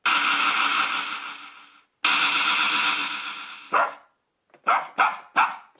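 Synthesized dog barks from a Miracle Piano keyboard's built-in sound effects: two long sustained bursts followed by several short, sharp barks in quick succession, loud and close with no talking.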